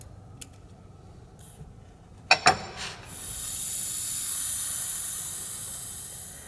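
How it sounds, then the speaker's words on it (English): Air escapes through a Schrader valve on an air ride hitch bag after a few metallic clicks, a steady, close, sustained hiss. "try to hold the Schrader valve in to allow me to decompress this bag"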